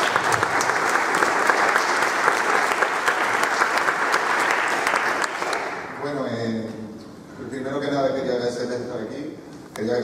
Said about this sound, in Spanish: les pido un fuerte aplauso para recibirlo